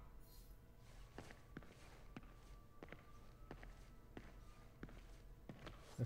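Footsteps in Marvel's Spider-Man (2018) Remastered, with about a dozen evenly spaced, sharp steps in a slow walking rhythm over a quiet background hum.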